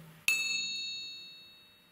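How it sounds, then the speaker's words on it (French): A metal container struck so it vibrates, giving one sharp ding that rings on as a bright, clear tone and slowly fades away. "je fais vibrer ce récipient et nous entendons un son."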